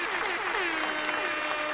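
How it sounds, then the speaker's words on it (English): Brief burst of studio audience clapping for a contestant, steady and fairly close, with a voice ringing over it. "Clap it up for Kenny"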